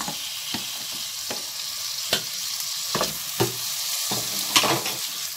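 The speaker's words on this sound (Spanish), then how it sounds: "El tomate, como tiene agua, suena así un poco de cuscurreado." Tomatoes sizzling as they fry in a pan with toasted oil, a steady hiss broken by sharp clacks as they are stirred, close up and without talk.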